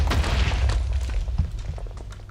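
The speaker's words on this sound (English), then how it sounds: "That's gonna be a big explosion." TNT blast in the Minecraft video game, a loud, deep booming explosion with crackling debris that rumbles and slowly fades.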